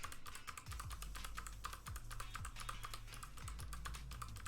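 Fast, steady clatter of keys on a very loud computer keyboard, close and continuous, with dense irregular clicks and no voices, recorded during a crochet session.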